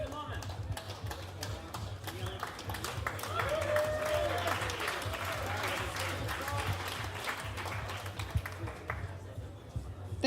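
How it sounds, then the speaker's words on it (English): After a presentation, a crowd claps steadily and fairly loudly, with a low hum beneath and voices mixed in. "Big applause, please."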